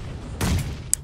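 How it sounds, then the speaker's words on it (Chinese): A single grenade explosion in the mobile shooter Game for Peace lands as a short, muffled boom, followed by a brief sharp click. "这顿手雷给你轰的，呱呱的，这顿轰啊！"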